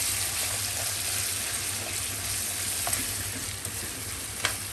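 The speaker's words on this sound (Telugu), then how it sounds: "ఇప్పుడు ఈ ఉడకబెట్టిన చింతపండు నూనెలో కాగాలి." Boiled tamarind sizzles steadily in hot oil, a continuous close hiss with a few faint pops and clinks, no voices.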